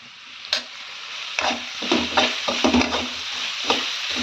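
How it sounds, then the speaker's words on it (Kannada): Steady sizzling of tomato frying in a pan, with a few louder scraping stirs and clinks of a utensil against the pan, no talking. "ಇವಾಗ ನೋಡಿ ಟೊಮೆಟೊ ಫ್ರೈ ಆಗ್ತಾಯಿದೆ"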